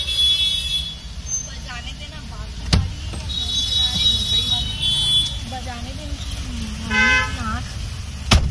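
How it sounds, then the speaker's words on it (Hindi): Car horns honk in busy traffic, several short toots and beeps at varying distances over a steady road rumble, with people talking in between. "बहुत हॉर्न मार रहे हैं उन लोग"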